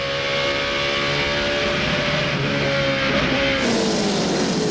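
A NASCAR Craftsman Truck Series race truck at Gateway International roars loudly through a downshift into turn 1, engine pitch stepping down amid steady race noise and a distant crowd-like wash.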